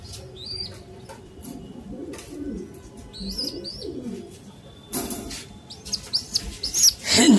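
Pigeons coo and chirp softly in repeated short calls, with a burst of louder rustling and wing flaps near the end; a voice is faintly present.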